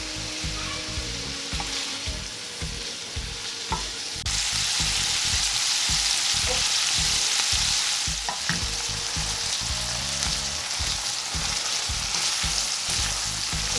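Patties frying in a pan, seasoned with salt: loud, continuous close-up sizzle with crackling and bursts of stirring or scraping, no voices.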